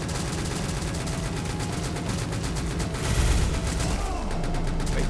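Rapid, continuous gunfire from the Contra gun in the video game Greedy Guns rattles steadily throughout, a dense stream of shots with a heavier booming impact partway through, under faint background game sounds.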